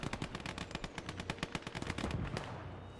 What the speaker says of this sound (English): My mortar's doing really good work just now.